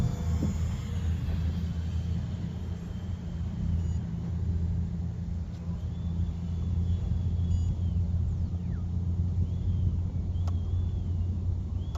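A Dee RC F35 Lightning II, a small brushless electric ducted-fan model jet, runs at full throttle as a steady, loud whine and rumble that continues unbroken the whole time. A faint tonal sweep passes partway through.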